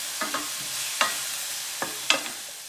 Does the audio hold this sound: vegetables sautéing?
yes